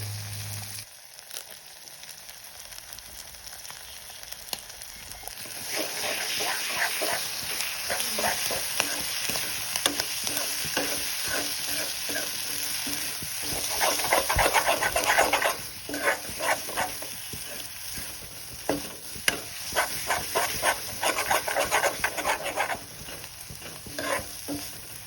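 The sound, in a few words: duck egg frying with pork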